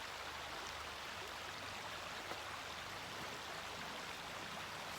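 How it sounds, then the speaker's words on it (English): River flowing beside an outdoor hatha yoga session, a steady, even rush of water that sounds faint and continuous with no voices present. "Listen to the river."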